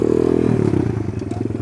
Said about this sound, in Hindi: आवाज़ सुन रहे हो बाइक की, टॉर्क की बहुत है